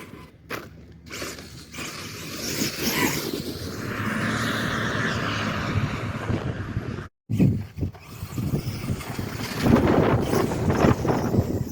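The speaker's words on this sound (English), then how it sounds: "That was almost full throttle." Kyosho USA1 VE electric RC monster truck running at near full throttle on wet sand, a steady mechanical whine and gear rattle with wind noise, cutting out briefly midway before surging again.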